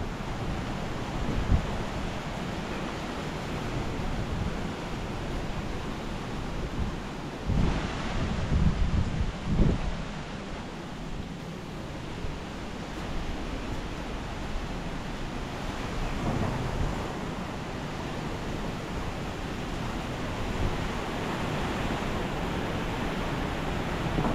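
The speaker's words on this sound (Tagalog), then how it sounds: "Lalong lumalakas po yung hangin." Strong wind roars continuously over a farm during a typhoon, buffeting the microphone, with heavier gusts swelling now and then.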